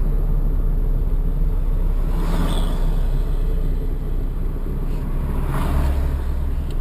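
Steady broadband road rumble from a Chevrolet Corsa driving through light traffic, a continuous loud wash of engine and tire noise with faint passing swells and no talk.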